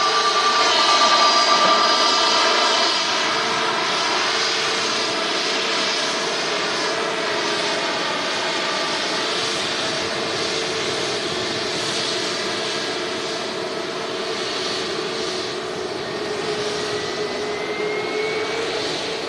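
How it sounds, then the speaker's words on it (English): A Pegasus Airbus A320neo jet arrives at Manchester Airport, its engines a loud sustained roar with a whining tone that peaks early and then holds steady as the aircraft passes nearby. "And just arriving, Pegasus A320 Neo, our regular Turkish carrier here at Manchester."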